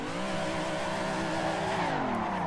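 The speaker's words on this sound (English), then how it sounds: "you can go and do just a little bit of a practice figure of 8 drift around the tyres" Car drifting a practice figure of eight around tyres at a local track, the engine droning loud and close with wavering revs as it swings round the turn, no talk over it.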